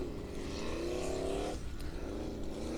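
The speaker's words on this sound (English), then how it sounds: "As soon as he goes on the throttle, the front end just gets kicked up, and a nice backflip, simply from the wheel spinning." Formula offroad car at an Icelandic competition in Hella revving hard with wheels spinning, engine pitch climbing in a rising whine then cutting off abruptly before picking up again, heard from a distance.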